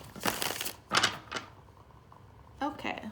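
Quick papery riffling bursts of tarot cards being shuffled close up, with a brief voice near the end.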